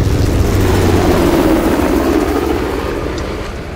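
A helicopter in the video game Uncharted: The Lost Legacy, its rotor thudding loud and close in a steady low drone that starts to fade toward the end.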